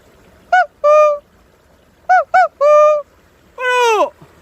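People imitate a cuckoo call with their voices, close and loud, in three bursts of clear two-note hoots separated by short pauses.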